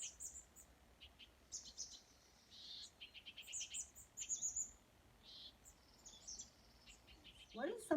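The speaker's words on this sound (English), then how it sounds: "Here are the birds." Birds chirp and tweet along a spring nature trail, with scattered short calls from several birds coming in irregular bursts over a quiet background.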